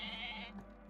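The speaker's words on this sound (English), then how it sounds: "Alright, sheep come to the shoreline here." Sheep bleat in Age of Mythology: Retold, a single close, sustained nasal call that fades off by the end, with no talk over it.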